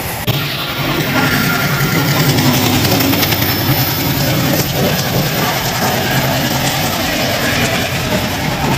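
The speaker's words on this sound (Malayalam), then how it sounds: "അതാ ഒരു ട്രെയിൻ വരുന്നുണ്ടോ, ഒരു ട്രെയിൻ വരുന്നുണ്ട് ഇവിടെ തൊട്ടടുത്തോട്ടാണ്." A long train rolls past on a railway track near Vadasseri Mala in Palakkad, Kerala, a loud steady rumble and rattle of wagons close by that swells in within the first second and holds.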